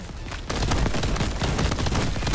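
Rocket launcher explosions in Crab Champions, a dense, continuous barrage of loud overlapping blasts and crackling impacts that stays intense throughout.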